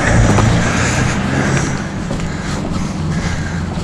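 Cars roll past on a road near a stream in a loud, continuous broadband rush of tyre and engine noise that swells at the start and eases slightly later, with no talking.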